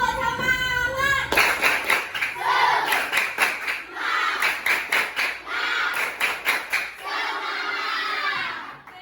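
A class of schoolchildren, standing in their classroom, performs a rhythmic group clapping routine, with fast patterned bursts of claps mixed with loud chanted shouts, led by the class captain.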